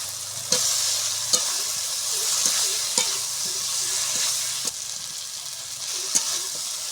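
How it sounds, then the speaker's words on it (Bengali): Potatoes stirred into a fried spice paste of ground coriander in a hot pan, giving a steady close sizzle broken by sharp scraping clinks of the spoon at irregular intervals, with no talking. "এবারে আলুটা দিয়ে দেবো।"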